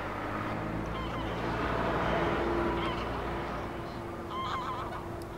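Greylag geese at Lake Neusiedl, a large flock honking continuously in an overlapping chorus, fairly loud with a few nearer distinct calls standing out, no talk.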